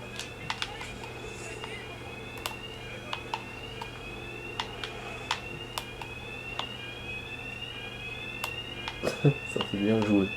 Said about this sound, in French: A mis l'alarme.